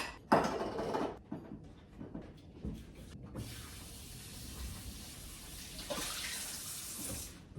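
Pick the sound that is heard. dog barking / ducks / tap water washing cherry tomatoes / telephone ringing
tap water washing cherry tomatoes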